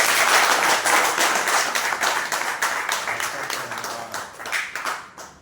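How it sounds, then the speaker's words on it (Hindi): Audience applause welcoming a sanitation ambassador at a ceremony in Haryana, loud and close at first, then gradually thinning into scattered claps as it fades out. "एक बार जोरदार तालियों से स्वागत करें।"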